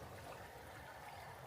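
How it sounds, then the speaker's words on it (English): Water flows steadily through a small rock pool on a creek at a South Australian campground, a soft continuous trickling wash, faint and even, with no voices. "this right here is the Newen Ponds Creek"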